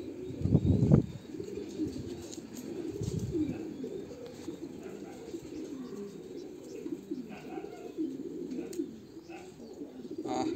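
A racing pigeon held in the hand coos softly and repeatedly nearby, with a brief flurry of louder rustling or wing movement near the start.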